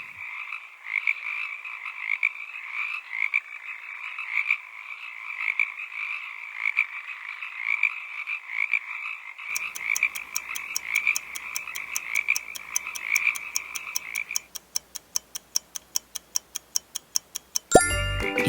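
A frog croaks in a continuous, rapid, buzzing trill that goes on for about fourteen seconds. After it stops, a clock ticks in steady, regular beats, and there is no talking.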